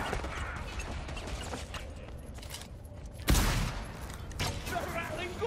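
A Skaven ratling gunner firing in Vermintide, a rapid rattling stream of shots under battle noise and voices, with a sharp loud impact partway through.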